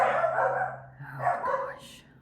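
Several dogs barking repeatedly in bursts, fairly close and loud, with yips mixed in, near an otherwise empty place.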